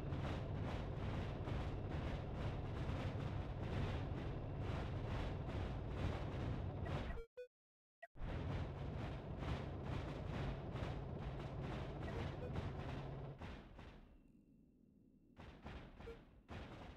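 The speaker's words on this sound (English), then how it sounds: "Let's see what happens when the lances fire in tandem and with the cannons." Thermal lances and cannons fire together in the space-ship game Cosmoteer, a dense rapid barrage of booming shots that cuts out briefly, resumes, then thins to scattered bursts.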